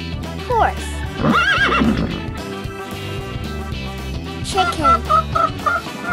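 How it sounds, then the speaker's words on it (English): A horse neighs in a quick, high whinny early on, followed by fluttering calls and rhythmic chirps over steady background music. "Horse."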